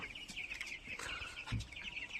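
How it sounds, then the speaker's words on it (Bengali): Tiger-breed chicks, 17 days old, basking outdoors in the sun, give soft, steady high-pitched peeping and cheeping that runs throughout, with a few louder chirps and a brief low bump partway through. "আপনাদেরকে দেখাচ্ছি আমি আমার টাইগার মুরগির বাচ্চাগুলো, যেগুলো আজকে বয়স চলতেছে 17 দিন"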